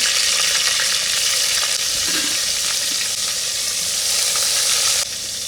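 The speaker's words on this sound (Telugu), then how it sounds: "నూనె బాగా వేడైపోయింది కదండి చేపలంటే వేయించేద్దాం" Fish frying in hot oil in a deep pan, a loud, dense, continuous sizzle and crackle close up that holds steady throughout before easing slightly at the end.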